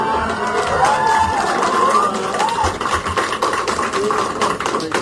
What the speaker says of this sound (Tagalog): pero pumapalakpak sila sa akin